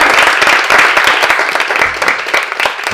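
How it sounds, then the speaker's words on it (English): Round of applause for a speaker at a content creation and leadership event, loud close clapping with distinct sharp hand claps over a lively crowd, continuing throughout. "Okay, so round of applause for Cole."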